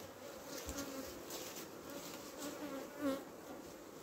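Honeybees hum steadily at a backup hive during a midsummer inspection, a close, continuous drone with a slightly louder swell near the end and no talking.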